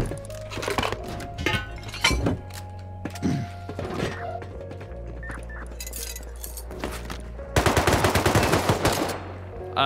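Video game gunfire scoring headshots, with sharp single shots and clinking metallic hits scattered through, then a dense rapid burst of automatic fire near the end, all loud and close.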